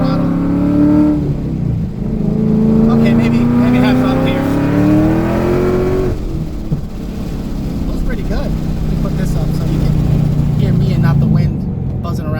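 A built 2015-2017 Ford Mustang engine pulls steadily under partial throttle while driving, its rising drone climbing in pitch over several seconds, then settling into a lower, sustained rumble; a voice talks over the engine.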